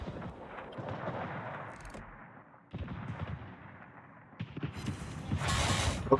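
Ship guns firing in the World of Warships naval game, heavy booming salvos and rumbling blasts stacking up through the clip, with a sharp burst of crackling noise near the end.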